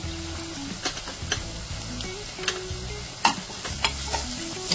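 Onions sizzling in hot oil in a pan with asafoetida and turmeric for Mumbai-style pav bhaji, a steady close sizzle broken by repeated spoon scrapes and taps, with no voices.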